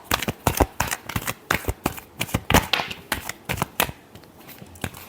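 Tarot cards shuffled by hand at close range, a fast run of crisp riffling flutters and slaps repeating rhythmically for several seconds, with no voice over them.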